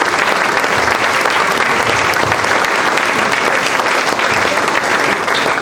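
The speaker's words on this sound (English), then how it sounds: "Please, a round of applause for the reviewer, Dr. Knight." Sustained applause from an audience at a university moot competition, welcoming a reviewer to the podium; steady, dense clapping that fills the whole stretch at even loudness with no talk over it.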